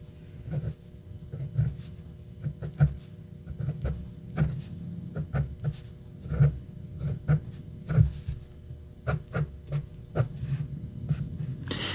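Soft, irregular scratching strokes of a Zebra V-301 stainless steel fountain pen nib moving across paper, close up and quiet, with a low steady hum underneath.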